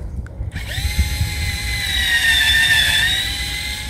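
A power drill bores a tap hole into a sugar maple trunk, a steady loud whine that rises and holds for several seconds after a brief start, close to the listener with no talking.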